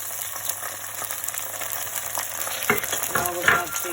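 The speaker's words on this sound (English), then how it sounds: "we're just going to fry off the peas so they're a little bit soft" Frozen peas frying with spices and salt in a pan, a steady sizzle with stirring scrapes and clacks near the end, close, with no voice.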